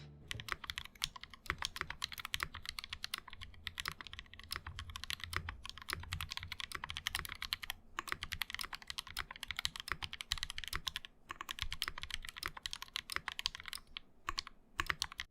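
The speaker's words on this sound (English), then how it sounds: "the typing experience is soft and bouncy" Steady, fast typing on a KBD Blade60 mechanical keyboard with linear switches, soft, bouncy, muffled key presses in an irregular stream with a few brief pauses, close up and alone.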